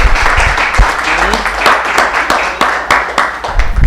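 A church congregation standing for a stewardship campaign service gives loud, close applause of praise, a dense burst of clapping with sharp individual claps and a few voices mixed in.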